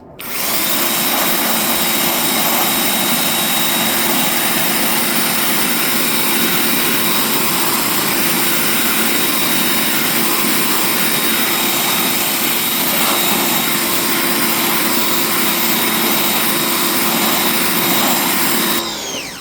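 A Craftsman pressure washer cleans the blades of a wind turbine, its motor and spray producing a loud, unbroken, hissing roar with a steady high whine for the whole stretch and no talking.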